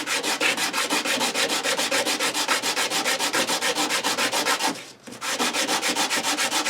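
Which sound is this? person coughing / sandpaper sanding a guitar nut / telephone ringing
sandpaper sanding a guitar nut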